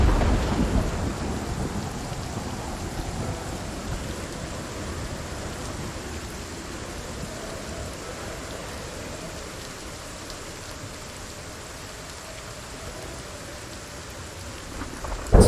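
Heavy rain pours steadily through a thunderstorm in the zombie survival game Project Zomboid, with a dense hiss of rainfall and low rumbling thunder running continuously and loudly throughout.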